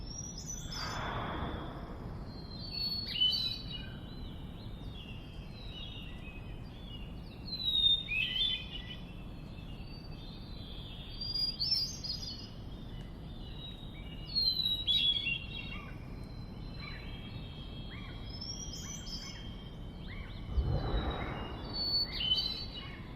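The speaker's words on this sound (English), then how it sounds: "captured both of these things together in a single recording, the thrush singing," Fluting hermit thrush song phrases repeat every few seconds over a quiet outdoor hush, with two soft breathy whooshes of a whale breathing, one near the start and one near the end.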